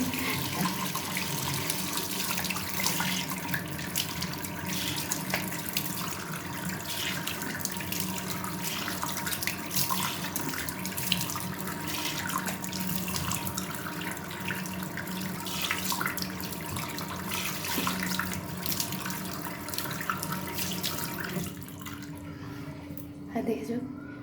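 Tap water runs steadily into a sink while a face is being washed at night, a continuous splashing rush that fills the whole stretch before easing off near the end.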